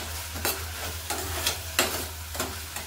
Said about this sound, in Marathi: आता झाकण काढून घ्यायचं, एकदम मिक्स करायचं।